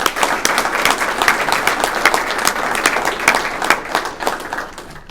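An audience at a service award ceremony claps steadily, a dense, loud round of applause that carries on throughout without any talking.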